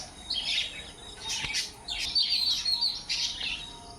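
Small birds chirp and tweet in quick, bright bursts close by, several calls overlapping over a steady low background hum.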